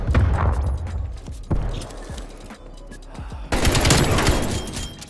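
Loud, close gunfire from Call of Duty: Cold War comes in rapid bursts with brief pauses, ending in a sustained automatic spray.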